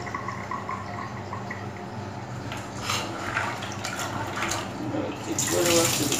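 Tap water runs steadily into a sink while almonds are washed for almond milk, a continuous splashing flow with a few brighter splashes and handling noises, growing slightly louder toward the end.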